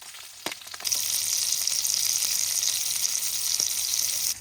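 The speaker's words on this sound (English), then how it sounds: "Then I'm gonna take the trout, I got the oil heated up, and just set it right there." Trout sizzling in hot oil in a pan at a campsite, after a few soft clicks and handling knocks at the start: a steady, loud frying hiss that holds to the end.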